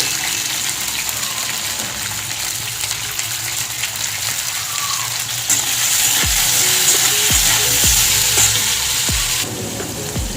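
Capsicum frying in hot oil in a kadai, a steady close sizzle and crackle throughout that grows louder and brighter midway, with a few soft knocks of stirring near the end.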